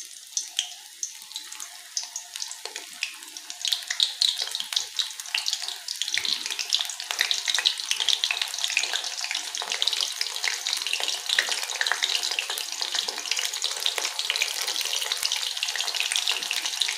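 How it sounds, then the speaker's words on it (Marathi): Soybean vadas deep-frying in a kadhai of hot oil: a continuous bright crackling bubble that builds after the first few seconds and holds steady, close and moderately loud, with no voices. "यांना आपल्याला छान लाल रंग येईपर्यंत तळून घ्यायचं आहे"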